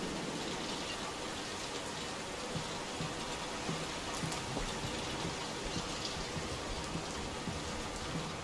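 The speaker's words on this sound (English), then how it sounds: "Will this storm ever run out of rain?" Steady, dense rain pours down throughout a rainstorm in the 2023 horror game Layers of Fear, an even hiss with no voices.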